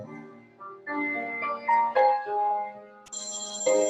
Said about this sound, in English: And there's a phone ringing.